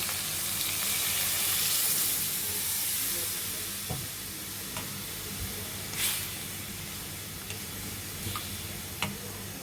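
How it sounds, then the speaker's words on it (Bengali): Broth pours into sizzling mutton rezala in a hot pot, setting off a broad hissing rush that eases into a quieter simmer with scattered sharp pops and ticks, and no voices. "এখন আমরা প্রয়োজন মতো ঝোল দিয়ে দেব"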